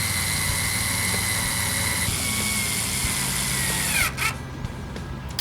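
A power driver whines steadily while running screws into the shock tower of a Tekno EB410.2 1:10 4WD RC buggy, loud and close, its pitch dipping and cutting off near the end.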